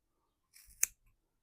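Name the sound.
scissors snipping folded yarn for pom poms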